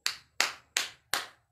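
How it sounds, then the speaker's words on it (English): Hands clap four times in an even, unhurried rhythm, sharp and close, each clap ringing briefly in a quiet room with no talking. "I can clap my hands."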